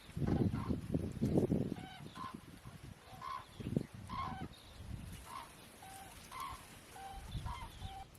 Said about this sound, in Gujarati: આ પંખી ગયા ને પક્ષી એ કુંજડા કહેવામાં આવે